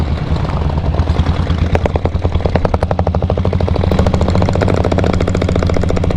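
A diesel Royal Enfield Bullet motorcycle draws closer, its single-cylinder engine thudding in a loud, rapid, even beat that grows steadily louder and nearer throughout.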